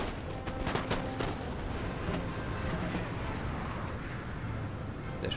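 Infantry gunfire volley in the Napoleon Total War video game, a burst of crackling musket shots near the start that gives way to a dense rumbling battlefield din.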